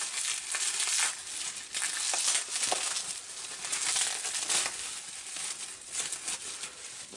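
A package being opened gives a steady run of loud, close crinkling and rustling of wrapping, with scattered sharper crackles and no talking.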